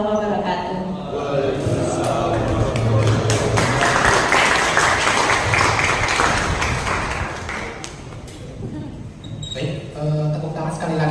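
A lecture hall audience gives sustained applause for the speaker after a public engineering lecture, with dense clapping running throughout and a voice talking over it.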